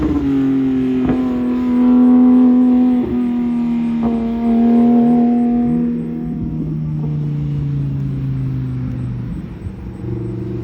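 A Ford Shelby GT500 Mustang on a race track, its engine droning loud and steady as it accelerates, the pitch climbing through the gears with brief dips at each shift.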